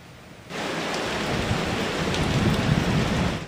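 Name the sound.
heavy rain and strong wind from Super Typhoon Nando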